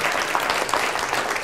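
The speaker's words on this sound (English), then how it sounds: "Give her a round of applause again" Audience applause at an event celebrating a woman named Sarah, a dense steady patter of clapping hands filling the room for a brief moment, with no voices over it.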